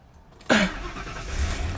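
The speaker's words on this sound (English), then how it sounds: "So anyway, start the car up here." A car engine starting: a quiet click, then an abrupt loud crank that catches and settles into a low, steady idle close by.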